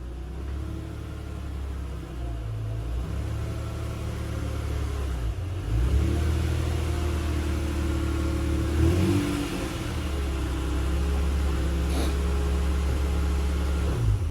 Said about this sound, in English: I pulled the car in right where it's supposed to be.